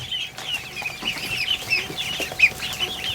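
A large crowd of young ducklings in a barn keeps up a constant, busy chorus of high peeps that overlap throughout, at a moderate, close level.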